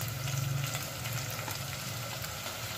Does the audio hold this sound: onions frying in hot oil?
yes